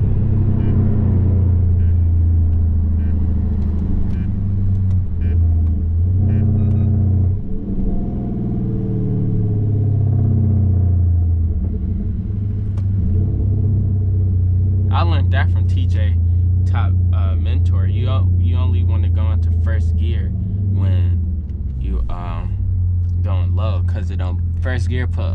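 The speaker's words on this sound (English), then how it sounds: "First gear put a lot of stress on the engine when you do go in the first gear" Dodge Scat Pack car engine rumbling from inside the cabin while driving, a steady deep low drone that rises briefly with revving, under people talking throughout.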